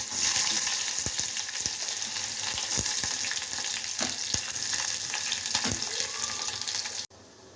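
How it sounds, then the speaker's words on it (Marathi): Onion frying in hot oil with curry leaves gives a steady, close, loud sizzle, punctuated by sharp scraping clicks from stirring, then abruptly drops to near silence at the very end. "त्याच्यामध्ये तेल टाकलेलं आहे, कढीपत्ता टाकलेला, आता कांदा टाकून देऊया।"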